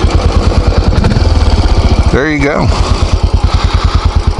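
A Royal Enfield Classic 500 single-cylinder motorcycle engine starts and settles into a loud, steady thumping idle close by, with a brief rising rev in the middle and a short spoken remark over it.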